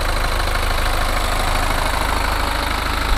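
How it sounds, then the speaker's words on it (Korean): A BMW 420d M Sport coupe diesel engine idles at close range with a steady, even rumble that holds constant throughout. "엔진 소리도 일정합니다"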